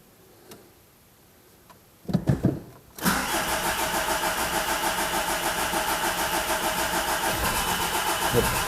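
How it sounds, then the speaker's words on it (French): A Volkswagen 1.9 TDI diesel engine cranks briefly in a few bursts, then catches and settles into a loud, steady, rhythmic ticking idle up close. "Bon allez c'est parti, coup de clé,"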